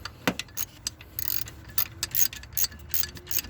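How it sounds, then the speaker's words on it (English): A ratchet tightening bolts on a 2003 Town Car alternator, giving quick repeated clicking strokes in short bursts, close and quiet. "I'm going to tighten these bolts back down here"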